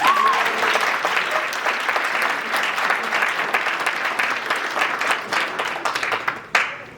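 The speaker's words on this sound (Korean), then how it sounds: "참석해 주신 내빈분들께 다시 한번 뜨거운 박수 부탁드립니다" Warm audience applause for guests at a university rowing club's 60th anniversary ceremony, dense continuous clapping from a large crowd that holds steady before tapering off near the end.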